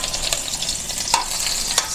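Onions for pakbet sautéing in a hot pan, a close, dense sizzle with a few sharper crackles and stirring scrapes throughout.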